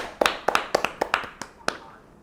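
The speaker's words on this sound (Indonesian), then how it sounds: "Sujiwo Tejo, tepuk tangan" Scattered handclaps from a small audience welcoming Sujiwo Tejo on stage, about a dozen sharp claps in an uneven burst that fades out quickly.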